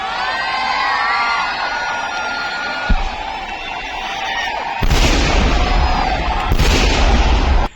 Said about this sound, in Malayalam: ഏറ്റവും മനോഹരമായ വെടിക്കെട്ട് പൊട്ടിച്ച എല്ലാ വെടിക്കെട്ട് കലാകാരന്മാർക്കും അഭിനന്ദനങ്ങൾ